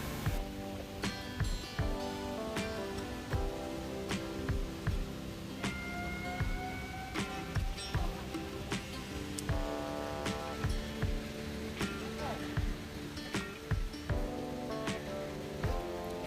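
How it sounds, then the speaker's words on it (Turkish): Muradiye waterfall in Van, Turkey, a steady broad rush of falling water that holds constant throughout, with faint scattered clicks and knocks nearby and no talking. "Muradiye Şelalesi'ne hoş geldiniz."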